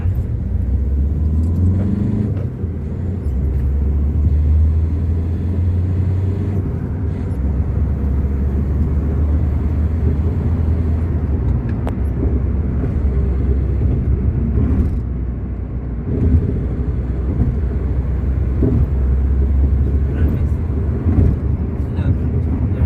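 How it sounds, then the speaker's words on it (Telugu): A Hyundai Verna with an intermittent fault pulls away in first gear, its low engine rumble steady and fairly close inside the cabin, with someone talking over it. "ఫస్ట్ గేర్ వేసి మూవ్ చేయబోతాను."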